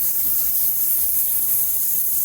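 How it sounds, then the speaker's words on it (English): Steam hisses steadily and loudly as a wet paper towel scrubs a hot pan, a continuous bright sizzle with faint rubbing underneath. "while it's hot, I'm gonna take this wet paper towel and I'm gonna give it a scrub"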